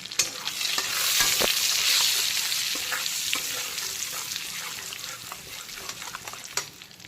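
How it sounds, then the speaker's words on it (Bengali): Nigella seeds and bay leaves crackle in hot oil left over from frying potatoes and prawns, a loud, close, steady sizzle with scattered pops and a few utensil taps. "এখন ওই একই তেলে প্রথমে দিয়ে দিচ্ছি কালো জিরে আর তেজপাতা ফোড়ন।"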